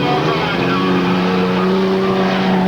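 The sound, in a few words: race cars passing on a speedway track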